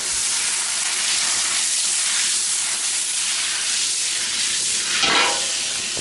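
A whole stick of butter sizzles loudly in a hot pan, a steady, dense, close hiss with a brief crackling surge near the end.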